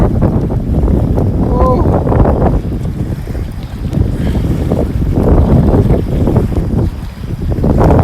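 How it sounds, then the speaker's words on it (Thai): Strong wind roars steadily and loudly against the microphone while fishing outdoors at Lam Takhong, a continuous rumbling buffet with faint speech buried under it. "ต้องบอกว่าลมแรงมากนะ"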